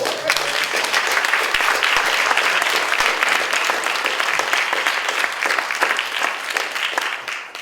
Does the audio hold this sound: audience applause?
yes